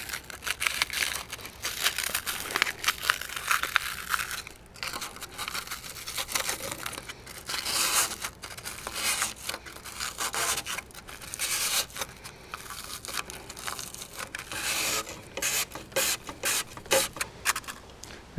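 A round file scrapes and rubs inside a hollow push pole in repeated bursts, a close, harsh rasping that starts and stops irregularly without talk.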